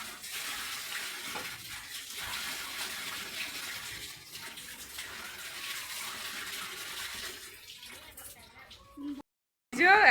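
Water runs steadily from an outdoor tap, a continuous broadband gush filling a container for several seconds before cutting off abruptly, followed by a brief clatter.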